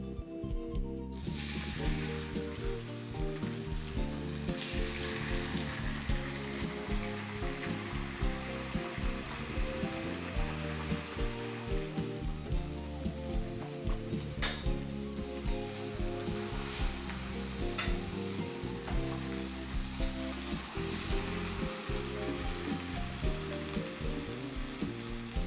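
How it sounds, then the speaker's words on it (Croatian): Beef fries in a pan in rendered bacon fat, a loud continuous sizzle with crackling pops, steady and close throughout with no talking. "Stavimo u tavu na ugrjenu masnoću i s obje strane pržimo 2 do 3 minute."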